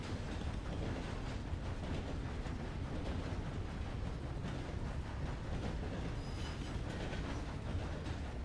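A train in a Sundown RP video game roleplay rolls along with a steady, dense rumble and faint clatter. A quiet squeal rises briefly near the end, and no one speaks.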